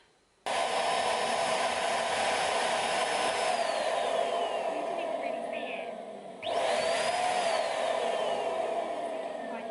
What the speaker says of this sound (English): then I can hoover this up before the kids get home